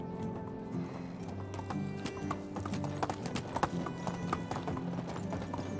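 Horse hooves clip-clop at a steady trot while riding in Medieval Dynasty, a quick rhythmic clatter heard fairly close with a faint backdrop of game ambience.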